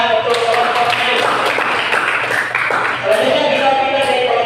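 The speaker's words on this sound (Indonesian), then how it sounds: "Oke, berikan tepuk tangan untuk kelompok maju." Applause for a school group presenting in class, a few seconds of scattered, fairly close hand claps mixed with children's voices and talk.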